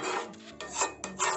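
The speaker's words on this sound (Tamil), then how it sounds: "கொஞ்சம் கொஞ்சமாக நெய் ஊற்றி மிக்ஸ் பண்ணிக்கிடலாம்" A spoon scrapes and rasps against a pan as Bombay cornflour halwa is stirred with ghee, in about four rhythmic, close-up strokes with short pauses between them.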